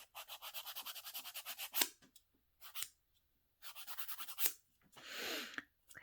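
A buffing block rubbed briskly back and forth across a decal surface in quick rhythmic bursts of strokes, separated by short pauses, close and fairly quiet.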